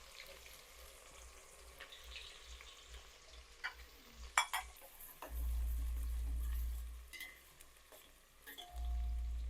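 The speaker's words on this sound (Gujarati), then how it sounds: "ડુંગળી અને મરચાં આપણું શેકાઈ ગયું છે." Onions and green chillies sizzling and frying in a pan in a home kitchen, a steady soft crackle with occasional stirring scrapes and low rumbling bursts, no talk.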